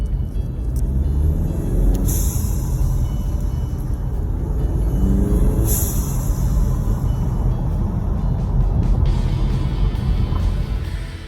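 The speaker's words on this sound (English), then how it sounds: "today I'm going to show you how I made my 2016 Ford Mustang sound like" A 2016 Ford Mustang engine fitted with a bypass valve adapter rumbles steadily and close, with a couple of brief airy whooshes rising over the constant drone.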